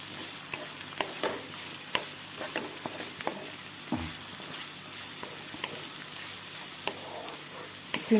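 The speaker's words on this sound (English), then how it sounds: "I'm also going to add in the garlic together with these onions so that they both fry together." Garlic and onions frying together in a pan for a stir-fried okra dish, a steady close sizzle broken by occasional stirring scrapes and clicks, with no talking.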